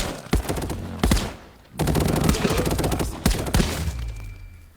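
Gunfire in the VR game Contractors, bursts of rapid shots with a couple of short pauses, loud and close, emptying a magazine.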